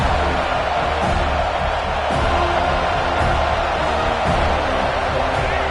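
A large home crowd roars continuously at a Georgia vs FSU college football game, a dense, steady wall of noise with no breaks.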